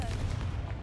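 A Confringo blast spell cast in Hogwarts Legacy: one short, dense fiery burst with a heavy low rumble that fills the whole moment, loud and close.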